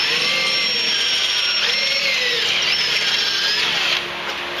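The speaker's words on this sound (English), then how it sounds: "Now we're going to drill out there's a guard here for the chain case." A power drill bores out an airframe climbing board to remove a chain case guard, a loud, steady high whine with rising and falling pitch sweeps as the bit loads, then drops off near the end; no talking.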